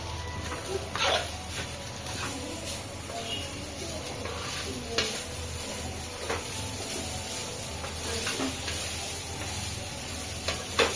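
Potato fry with salt, chili powder and coriander sizzles steadily in a pan, a continuous close hiss with occasional sharper pops and stirring scrapes throughout.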